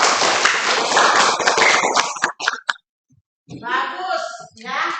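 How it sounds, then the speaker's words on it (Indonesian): Children clap in an elementary school classroom: a dense burst of clapping lasts about two seconds and trails off into a short silence before a voice begins speaking. "Tepuk tangan dulu."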